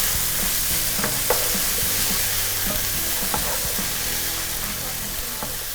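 Finely chopped tomatoes and green capsicum being stirred in a frying pan with cabbage, a steady sizzling hiss broken by scraping spoon strokes against the pan, close and continuous with no talking.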